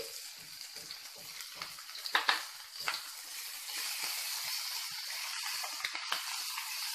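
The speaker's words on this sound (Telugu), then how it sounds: "బాగా ఆయిల్లో ఫ్రై చేసేసుకుంటే ఆ చేదు అనేది" Fresh homegrown fenugreek leaves fry in hot oil, giving a steady soft sizzle and hiss with a few brief louder crackles and stirring sounds, heard close and alone.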